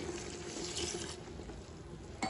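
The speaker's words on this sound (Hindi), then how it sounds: "लेकिन इससे पहले मैं डाल देती हूँ इसके अंदर 1 गिलास पानी" A glass of water is poured into a Delhi-style shami kebab mixture in a cooking pot, making a steady close splashing, gurgling pour that ends with a brief final splash.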